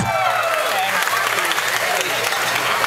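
An audience at an Oktoberfest event in Penang applauds and cheers for contestants, a dense, continuous wash of clapping and crowd voices heard from within the room.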